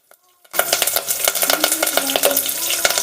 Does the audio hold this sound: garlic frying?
yes